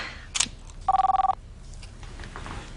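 A telephone rings nearby, a single rapid electronic trill burst lasting about half a second after a short bright chirp, in a quiet room.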